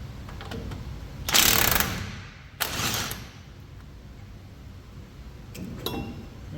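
A ratchet working on brake caliper bracket bolts, 21 mm, on a 2002 Silverado: two short, loud bursts of rapid clicking close together, then a fainter third burst after a quiet pause.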